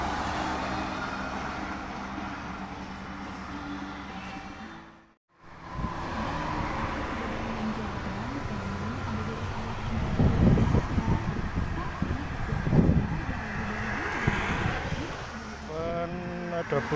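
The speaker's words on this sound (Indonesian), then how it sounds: "Depan ada bus Bagong jurusan Surabaya" Bagong intercity bus cruising on the Trans Java toll road toward Surabaya, a steady close road rumble with brief dropout, swelling louder engine and tyre roar near the end alongside other traffic.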